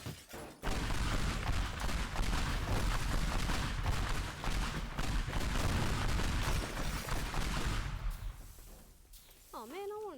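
A pipe bomb detonates in the destruction game Teardown, setting off a loud, sustained burst of blasting and crackling debris that roars for several seconds before fading, with a brief rising whistle-like tone at the very end.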